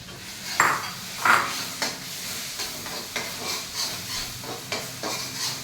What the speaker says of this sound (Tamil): தக்காளியும் நல்லா வதங்கி வரணும். வெங்காயம் தக்காளி ரெண்டுமே வதங்கணும்.